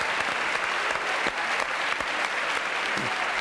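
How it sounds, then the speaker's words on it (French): A French TV studio audience applauds a caller on a talk show, a loud, dense, steady burst of clapping filling the whole stretch with no voices over it. "Applaudissements pour Lucette."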